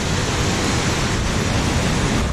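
Hérisson waterfall roaring below a high lookout, a steady, loud, unbroken rush of falling water filling the whole clip with no voices.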